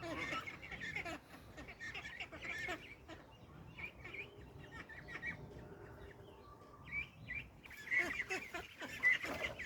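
A flock of ducks and other fowl calling and quacking in a busy, continuous jumble, with brief honk-like calls rising toward the end.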